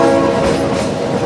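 A Shay steam locomotive on a narrow gauge logging railroad, at a top speed of 10 to 15 mph, makes a loud, steady rumble with a sustained horn-like tone running through it, heard up close.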